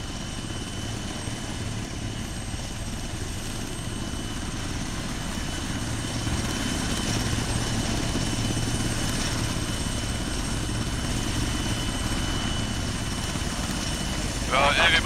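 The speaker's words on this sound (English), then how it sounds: "Right, everybody board the chopper." Military helicopter in the Arma 3 combat game idles steadily with a constant low rotor drone and engine whine throughout, close and continuous, while voices talk over it.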